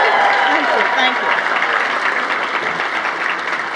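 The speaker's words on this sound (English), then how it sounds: "how about a great round of applause for our good friend and great leader, Carol Swain" Conference audience applauding a speaker at the American Dream Conference, a loud, steady wall of clapping with crowd noise and a voice faintly audible under it.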